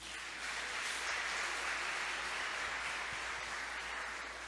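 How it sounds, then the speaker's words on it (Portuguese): A church congregation applauds at a worship service, a steady, dense wash of many hands clapping that holds evenly for several seconds without a break. "Vamos aplaudir ao Senhor por isso?"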